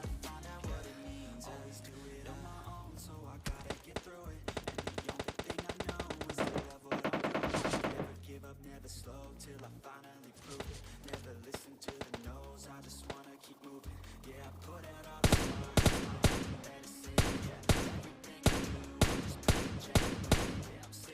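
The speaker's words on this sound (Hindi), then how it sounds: "तो फिर मैं स्नैपिंग टावर वाले के ऊपर एक कुछ शॉट्स लेने का ट्राई तो करता हूँ" Gunfire in the mobile game PUBG Mobile Lite: rapid machine-gun bursts and single loud shots, nearby and sharp, crowd the clip, growing heavier toward the end, with no talk.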